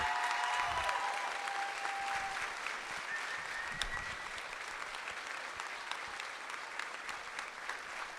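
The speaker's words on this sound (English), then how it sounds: "Now let's give Casey that round of applause that we know she all deserves" Crowd clapping at a state fair livestock sale of champions, sustained applause filling a large space, fairly distant and even, slowly fading across several seconds.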